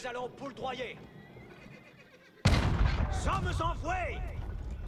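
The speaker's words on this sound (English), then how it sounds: "they have a unique cannon, and it's basically their bombard" A French unique cannon, their bombard, in Age of Empires IV fires a single loud, sudden blast midway, preceded by quieter battlefield noise with horse whinnies that continue alongside heavy rumbling after the shot.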